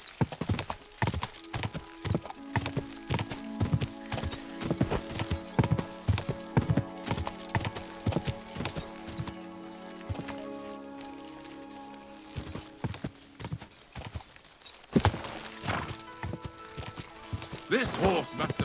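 Horse hooves clip-clop in a steady walking rhythm, close by, with a few louder knocks and some faint voices in the background.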